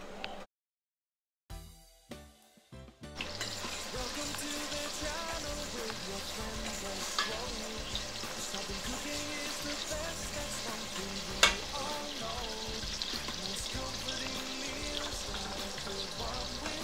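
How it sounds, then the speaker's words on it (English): Onions sizzle and fry in a pot of oil and meat drippings from cubed steak, with a brief clatter as they go in, then a steady close crackle and occasional stirring. "saute my onions."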